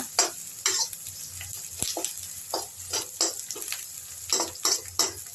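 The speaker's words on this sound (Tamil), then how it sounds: "நல்லா வதக்குங்க." Lotus stem stir-fry sautés in a pan, a fairly quiet sizzle punctuated by repeated bursts of spatula scraping and light metallic ticks.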